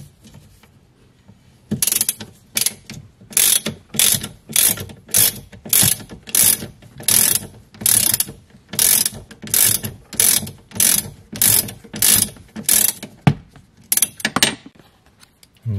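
Hand ratchet loosening M10 airbag bolts inside a VW or Audi, repeated quick bursts of loud close metallic clicking in a steady back-and-forth rhythm.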